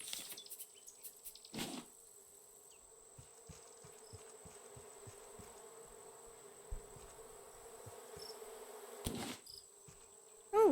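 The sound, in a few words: bees buzzing in video game Raft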